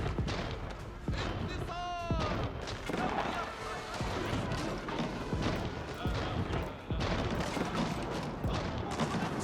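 Cannon fire from an artillery battery of about fourteen cannons in Age of Empires IV, a real-time strategy battle, sounds as repeated booms and crashes amid dense battle noise, with someone talking over most of it.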